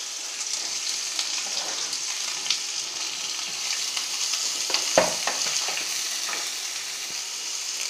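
Green chillies and onion frying in hot oil with fennel seeds for tomato rice, a constant bright sizzle with occasional stirring scrapes and one sharper clatter, close up and with no speech.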